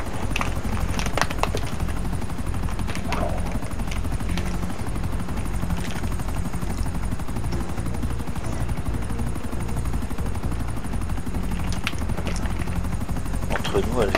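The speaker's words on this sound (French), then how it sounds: "Entre nous, Elvis, celle qui pilote l'hélico, elle est complètement cinglée." A helicopter flies with a steady, loud rhythmic rotor thump that continues unbroken for the full stretch, with speech heard faintly over it.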